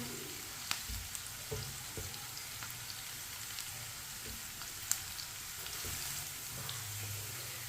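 Onions browning in a pan for masoor dal, a low steady sizzle with occasional soft spoon taps and scrapes as they are stirred, quiet and close with no talk.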